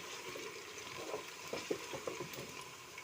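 Onions for chana pulao fry in a pan on a low gas flame and are stirred with a spoon, giving a faint steady sizzle with soft, irregular scraping strokes and no talking.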